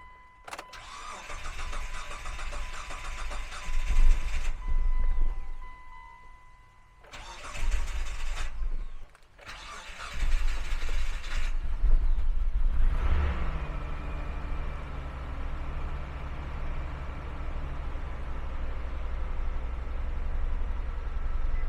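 Mitsubishi Montero SUV cranking over in several bursts of starter whine before the engine catches and settles into a steady idle, loud and close with no talking.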